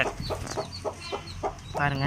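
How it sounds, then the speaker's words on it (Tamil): Hens shut inside a closed box cluck in short repeated bursts, close and slightly muffled, with one louder, rising call at the end. "கோழியெல்லாம் பெட்டிக்குள்ளே போட்டு மூடி வச்சுருக்கேன்"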